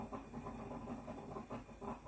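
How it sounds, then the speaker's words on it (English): A faint, steady hissing and gurgling of a coffee maker brewing, with soft bubbling pulses repeating throughout. "what you're hearing is my coffee pot"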